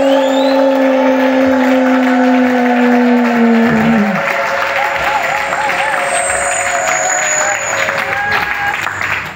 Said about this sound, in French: Est-ce que quelqu'un peut acclamer très fort pour la parole de Dieu?